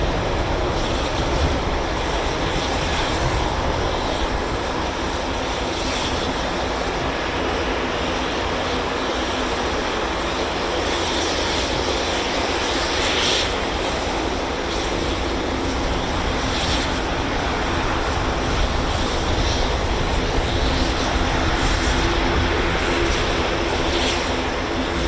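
An RAF 12 Squadron Eurofighter Typhoon from RAF Coningsby arrives at RAF Fairford for the Royal International Air Tattoo, giving a steady, broad jet roar that holds loud and unbroken for the whole stretch without voices.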